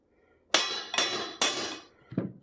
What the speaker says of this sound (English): Take a punch in my hammer and tap that out.